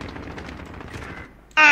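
Rapid gunfire in the video game Call of Duty: Warzone crackles in a dense burst, then gives way to a louder, bright electronic tone at the end.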